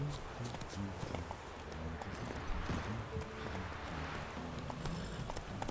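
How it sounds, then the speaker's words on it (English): Rhythmic clip-clop of horse hooves at a quick pace in The Witcher 3: Wild Hunt, steady and close, with game background sound and a voice occasionally speaking over it. "ride our horse down"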